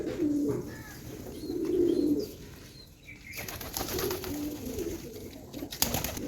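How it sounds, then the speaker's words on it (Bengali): Pigeons coo in soft, repeated rumbling calls at a mini zoo, with a brief flutter and rustle toward the end, fairly quiet and close. "আর এখানে কিছু পায়রা খাবার খেতে এসছে"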